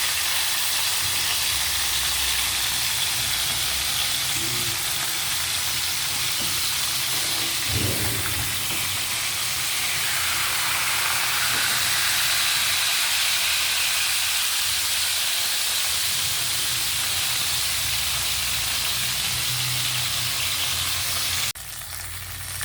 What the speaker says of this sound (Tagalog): piniprito natin yung ating dalag para mawala siya para hindi siya masyadong malansa